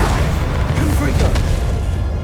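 A Confringo fire-blast spell goes off in Hogwarts Legacy, a dense roaring boom of magical combat that fills the whole stretch loudly, with a voice calling out over it.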